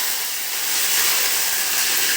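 Constant loud hissing and sizzling of vadagam frying in hot oil, close and unbroken, with no voices.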